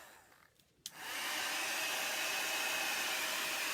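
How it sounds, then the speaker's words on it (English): Hair dryer switched on to dry wet paint, a brief click and then a steady loud whooshing roar of blowing air that holds constant, close and alone. "let's put the dryer to this and clean it up a little bit"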